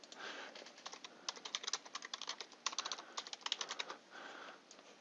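Rapid typing on a computer keyboard, with quick irregular clicking keystrokes in bursts and brief pauses, close and fairly quiet with no voices.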